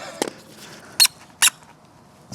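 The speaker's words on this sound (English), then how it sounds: "Squeaking's got to be a good sound" A brake part on a Honda Civic squeaks as it is worked on: several short, sharp squeaks spaced apart, close and fairly loud, with quiet between them.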